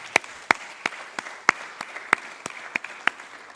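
Audience applause at a conference talk, a sparse scattering of sharp individual claps rather than a full ovation, irregular and fairly quiet, fading in intensity across a few seconds with no talking over it.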